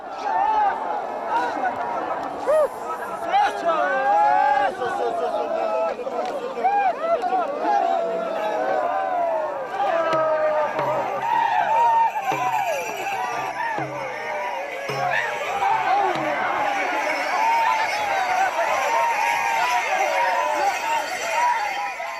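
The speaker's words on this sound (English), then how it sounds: "With the raising of the Tarboche, the crowd's mood has become rather wild" A wild, dense crowd shouts and cheers continuously at the raising of the Tarboche prayer pole in Tibet, many overlapping voices whooping and calling loudly and close throughout, with no pause.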